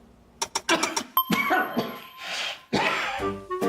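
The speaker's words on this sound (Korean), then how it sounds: "2주 이상 기침하면" Repeated coughs and throat-clearing from a person who mistook a lingering cough for a cold, in a tuberculosis awareness skit, with a brief ding and clatter among the bursts.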